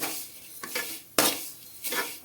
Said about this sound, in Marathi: गोल्डन कलरचा रंग येईपर्यंत शेवया भाजून घ्यायचा आहे